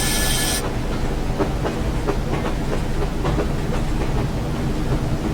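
Train brakes on a Class 101 diesel multiple unit in the Train Sim World simulator, a steady loud rolling rumble with rhythmic rail clicks and a brief hiss at the start, no talk.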